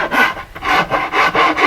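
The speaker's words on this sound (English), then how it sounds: "I am just going to file it." A file rasps across scrap wood being shaped into a canoe paddle, four loud, close strokes in an even rhythm with short gaps between them.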